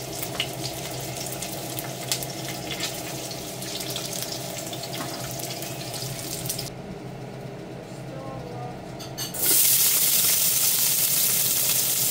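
Oil heating in a pan for cooking pancit, a steady hiss and sizzle with running tap water, louder and brighter toward the end, with no talk over it.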